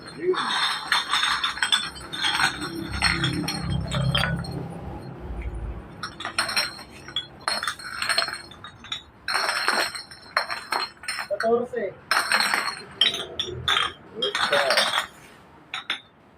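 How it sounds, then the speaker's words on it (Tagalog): Glass bottles clink and rattle against each other as they are handled at a scrap buying spot, with repeated bright chinks running through the scene under people talking. "Mga bote."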